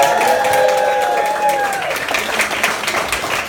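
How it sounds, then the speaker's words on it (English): Wedding guests applaud the bride and groom, a dense, steady round of clapping from a crowd in a reception hall, tapering slightly as it goes on. "let's hear a big round of applause for the bride and groom"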